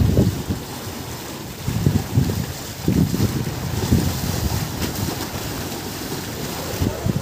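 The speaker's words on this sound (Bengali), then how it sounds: "আর এখানে দেখুন কত ঢেউ হচ্ছে এখন" Tidal river waves slosh beside Ghoramara island in the Sundarbans delta at high tide, a low rolling wash buffeted by heavy wind rumble against the microphone, no talking.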